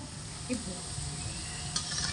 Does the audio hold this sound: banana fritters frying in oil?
yes